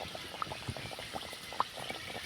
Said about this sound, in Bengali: তো জলখাবারটা আমি বেশি তেলের মধ্যে ভাজছি